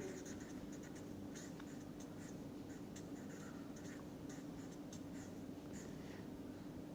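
Chalk or pen strokes writing equations on a board during a lecture, a steady scratching tapping rhythm over a constant low hum, with no talk.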